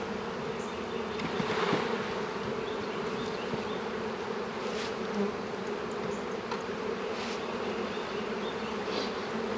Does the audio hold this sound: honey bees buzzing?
yes